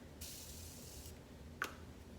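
Morphe setting spray is spritzed from its bottle onto an e.l.f. flat brush, giving a soft, airy hiss about a second long, then a brief quieter puff; faint overall, with no talking.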